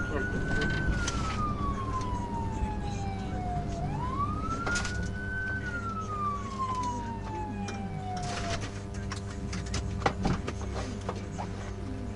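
A police car siren during a traffic stop on a motorcycle wails, sliding up and down in long slow sweeps over steady traffic rumble, moderately distant and continuous.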